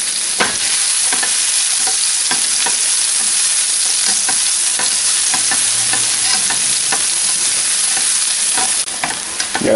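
Shallots sizzle loudly in a hot pan while being stirred, a steady bright frying hiss broken by sharp scraping strokes and pops, close and continuous with no talking.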